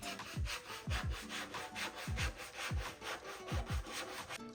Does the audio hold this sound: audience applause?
no